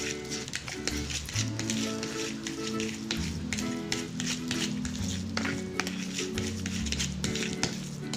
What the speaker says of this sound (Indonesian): sudah seperti ini kita aduk terlebih dahulu agar bumbunya menyerap dan merata pada tahunya